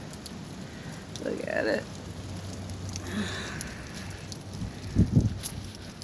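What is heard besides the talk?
wind and rain storm outdoors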